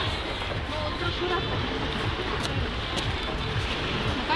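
A pleasure motor boat cruises on Lake Baikal, a steady broadband rush of engine, wind and water running continuously at close range with faint talk.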